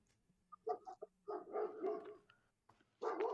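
A dog barks in several short, sharp bursts, fairly faint and somewhat distant, with quiet gaps between the barks and a final louder bark at the end.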